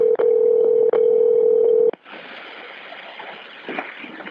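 A telephone line for a 911 callback to police gives a loud steady dial tone broken by a few quick dialing clicks, then cuts to a low hissing open-line connection.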